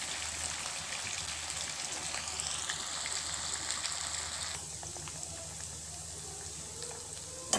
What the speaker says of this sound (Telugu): ఇవన్నీ ఇలా వేసి డీప్ ఫ్రై చేసుకున్నామండి.